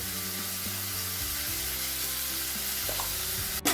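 Ground spices and turmeric with chilli pieces sizzle loudly in hot oil in a pan for chicken chowmein, a dense continuous frying hiss with stirring scrapes throughout and a sharp clatter at the end.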